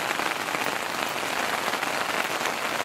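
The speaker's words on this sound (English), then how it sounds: "But it is raining pretty good." Heavy rain falls outdoors on a backpacking trip, a dense, loud, continuous hiss of drops pattering on surfaces close by, unbroken until it cuts off at the end with no voices.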